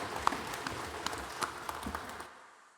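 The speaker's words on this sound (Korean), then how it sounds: "영광의 박수를 하나님께 드리겠습니다." A church congregation claps during a Sunday worship service, scattered dense applause with a few sharper claps, fading out after about two seconds.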